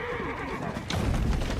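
A carriage horse in a video game whinnies, with the neigh rising near the middle and followed by a louder, fuller rumble of movement to the end of the short clip.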